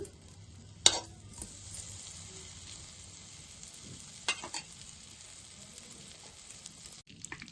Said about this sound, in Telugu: మనం కడాయి పెట్టుకుని స్టవ్ వెలిగించుకుని ఇప్పుడు చికెన్ అయితే వేపుకోవాలి బటర్ వేసుకోవాలి రెండు స్పూన్లు బటర్ వేసుకున్నాను